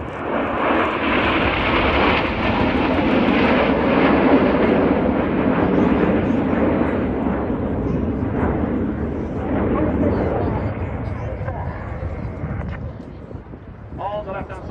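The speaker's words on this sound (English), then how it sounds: "As the smoke comes back on and the jets sweep in from the right-hand side" Military jet display team sweeping past in formation at the RAF Cosford airshow, a loud continuous roar that builds and slowly fades as the aircraft pass, with a commentator talking over it.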